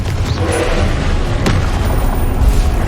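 In Hogwarts Legacy, a Confringo explosion spell lands as a loud, dense boom with a rumbling, crackling blast. Heavy low-end noise fills the whole moment, with a sharper burst in the middle.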